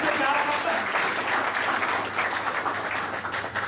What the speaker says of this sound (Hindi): जोरदार तालियां बजाएं खुदा के लिए